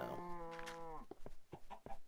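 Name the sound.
cow mooing in Minecraft video game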